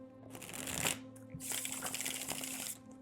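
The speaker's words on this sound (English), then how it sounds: "I'm going to shuffle these cards" Close riffling of a deck of cards, two quick bursts of crisp flutter separated by a brief pause, over a faint hum.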